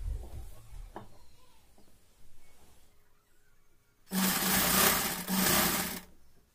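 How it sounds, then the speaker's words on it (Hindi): A sewing machine stitches a newborn baby cap in two close, fairly loud whirring bursts near the end, after quieter handling noises and a pause. "तो अब हमने इसको सिलाई लगानी है।"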